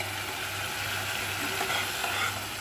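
Tomato paste sizzles in hot oil while being stirred, a steady close frying hiss with soft scraping from the spoon, no voices.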